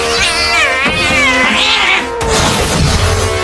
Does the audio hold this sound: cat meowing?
yes